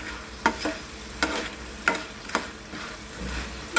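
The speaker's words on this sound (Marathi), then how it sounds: "हे बघा आपले बटाटे मस्तपैकी भाजून होत आहेत" Potato pieces fry in a pan for sabudana khichdi, with a soft sizzle under roughly six sharp spoon scrapes at uneven intervals, heard up close and without voices.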